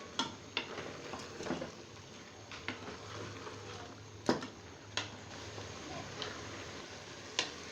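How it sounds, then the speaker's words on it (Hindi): Mutton being fried and stirred with ginger garlic paste in a pot: a low sizzle runs under intermittent sharp clicks and taps of a spoon against the pan, fairly close. "अब मैं इसमें अदरक लहसुन का पेस्ट डालूंगी और मज़ीद 2 से 3 मिनट के लिए भूनूंगी"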